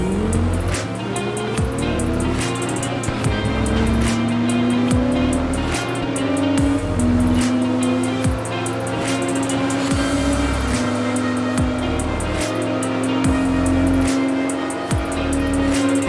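Stock car engine pulling hard through the gears, revving to around 5,000 RPM before each shift, loud and steady with repeated rising pitch sweeps and brief tire squeal.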